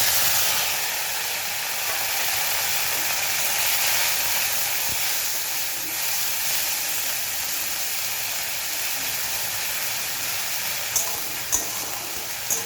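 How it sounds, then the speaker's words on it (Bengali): Onion paste frying in hot oil with cumin and bay leaf, for a soybean muitha dish, a continuous broad sizzle and hiss close by, with a few soft clicks near the end. "এবারে পেঁয়াজ বাটাটা দিয়ে দেব।"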